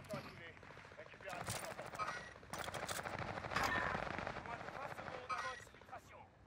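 Gunfire in Call of Duty Warzone on Rebirth Island, with rapid bursts of automatic weapon fire crackling in and out over several seconds, fairly quiet and mixed with game noise and a voice talking.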